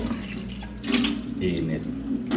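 Warm water runs from a tap in a steady splashing stream, close and fairly loud, surging in a few bursts over its short length.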